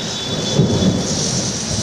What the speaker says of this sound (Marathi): ढगाळ वातावरण आणि अचानक विजेच्या कळकळामध्ये आपण बघू शकता सिडूनच्या कार्यालयामधून हे थेट पावसाचे दृश्य